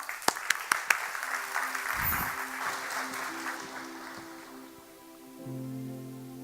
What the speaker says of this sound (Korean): 나오실 때 뜨거운 박수로 환영하겠습니다